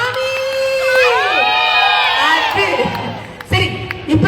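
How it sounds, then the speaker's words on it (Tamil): A crowd of fans at a fan question session with Swami cheers, whoops and shouts, with children's voices rising above the roar, which swells loudly across the first seconds before thinning out toward the end. "ஒரு பலத்த கைத்தட்டல் கொடுங்க."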